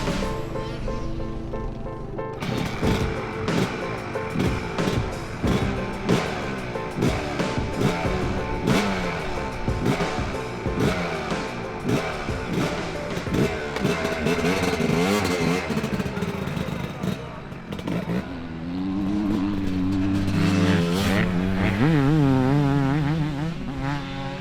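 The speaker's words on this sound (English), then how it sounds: "So here I am, lucky enough to ride this little beauty, Manicq Bervoets factory RM250" A factory Suzuki RM250 two-stroke motocross motorcycle, its engine loud and close, crackling and revving in repeated sharp blips, then settling into a sustained rising drone toward the end.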